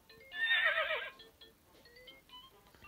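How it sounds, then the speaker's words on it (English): A single horse whinnies once, a bright, wavering neigh lasting under a second, fairly close and clear, followed by faint scattered tones. "H is for horse."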